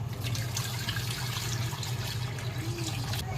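Water poured into a cooking pot for salmon soup, a steady close-up splash and pour running throughout over a low background hum, with no talk.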